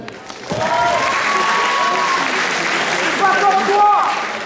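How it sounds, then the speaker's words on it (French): Audience applause at a cosplay event at Mang'Azur 2012, a dense wash of clapping that swells and holds steady, with crowd voices and whistles rising above it near the end. "on peut l'applaudir quand même"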